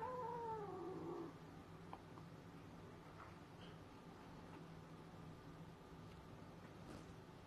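A kitten meows near the start, one drawn-out, wavering cry lasting about a second, then only faint room hiss and a few small soft sounds indoors.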